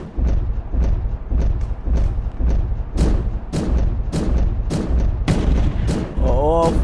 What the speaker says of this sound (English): What kind of gun is this? Wait, it was all for a bomb gun?